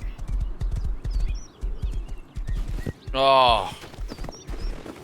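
Rhythmic hoof clip-clops of a galloping horse in the video game Rust, close and steady, with a brief whinny-like tonal cry midway and a short exclamation from a voice.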